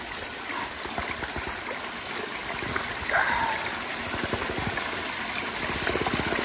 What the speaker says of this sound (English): it's really good fresh mountain water we got here